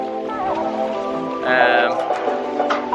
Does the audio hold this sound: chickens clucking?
no